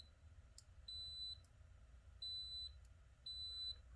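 A compact multimeter in continuity mode sounds three separate high, steady beeps, each about half a second long with short gaps between, over a faint background hiss.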